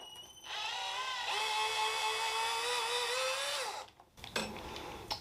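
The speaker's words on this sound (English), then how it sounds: "And we're done with our drill." A power drill bores through a tree trunk during grafting, a loud steady high whine lasting a few seconds that dips in pitch as it slows and stops, followed by a few clattering handling noises.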